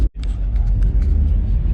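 An Audi R8 rolls up at a car meet, giving a loud close rumbling engine note that holds steady after a brief cut, with faint voices in the background.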